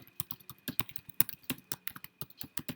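An email address is typed on a computer keyboard in a steady run of crisp, close keystrokes with uneven rhythm in a quiet room.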